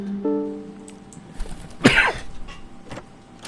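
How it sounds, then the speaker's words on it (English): A person gives one sharp, close cough midway, a brief broadband burst standing out above a low background hum and a short tonal sound near the start. "I really apologize for all the coughing"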